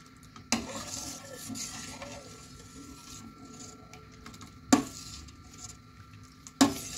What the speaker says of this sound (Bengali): এইভাবে দুধটাকে ফোটাতে ফোটাতে আমি দুধটাকে ঘন করব, এতে ছানাটাও সিদ্ধ হতে থাকবে।